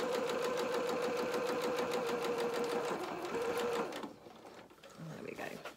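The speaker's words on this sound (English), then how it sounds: "we're going to sew down this line here with a 1/4 inch seam allowance" A sewing machine runs steadily stitching a quarter-inch corduroy seam, a dense rapid needle rhythm for about four seconds before stopping and giving way to quieter handling sounds.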